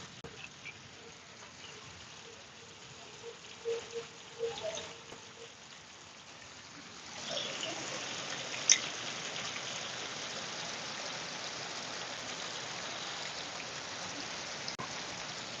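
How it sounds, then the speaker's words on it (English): Steady rain falls outside during hurricane season, a dense even patter that grows louder partway through and keeps going, with faint drips and no talking. "Stay raining out here,"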